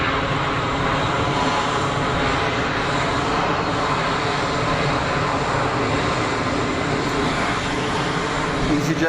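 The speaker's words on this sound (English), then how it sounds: "easyJet blast off." An easyJet airliner takes off at Geneva Airport, its jet engines a continuous loud roar that holds steady for about nine seconds.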